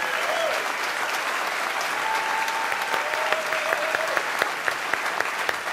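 Steady, loud applause from a concert audience at a late-night show, continuous dense clapping with crowd noise throughout, occasional sharper claps standing out near the end.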